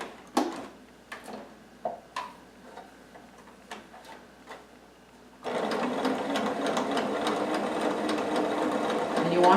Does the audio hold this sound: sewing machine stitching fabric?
yes